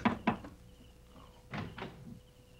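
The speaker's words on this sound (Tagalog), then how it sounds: "Buksan mo yung pinto." A door in a home opens with a couple of close, sharp knocks and clunks of the latch and frame, then a softer second pair of thuds about a second later, with quiet room noise between.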